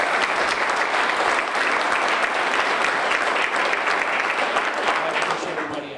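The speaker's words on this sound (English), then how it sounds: "Let's give him another round of applause." Sustained audience applause at a community event welcoming a newly approved council member, dense and steady from start to finish, tapering only slightly at the end.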